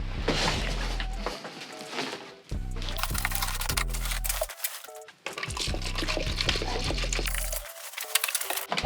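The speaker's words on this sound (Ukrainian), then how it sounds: "я наливаю собі ганклінер в окрему тару і буду працювати з ним" Gun cleaner solvent is poured from a bottle into a separate container for washing a car paint spray gun, a continuous liquid pour heard close up in three bursts with brief pauses and low hum underneath.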